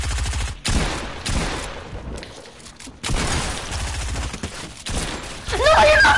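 Rapid bursts of SMG fire in a video game, loud close volleys broken by brief pauses, with game effects and a rising electronic tone near the end.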